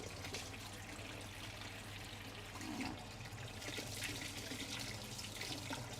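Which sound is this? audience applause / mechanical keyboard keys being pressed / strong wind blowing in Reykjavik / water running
water running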